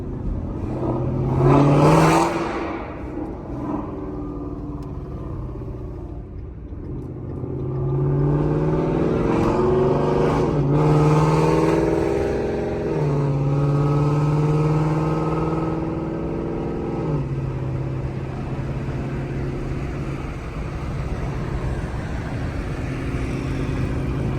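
A car exhaust with Corsa Xtreme mufflers and catalytic converter removed revs repeatedly in a tunnel, rising and falling in pitch with a reverberant, echoing roar, no talking.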